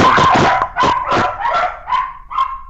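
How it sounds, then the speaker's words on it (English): Dogs barking in the background, a rapid series of about eight sharp yapping barks that tail off toward the end, fairly close and loud with no talk over them. "Dogs going off in the background."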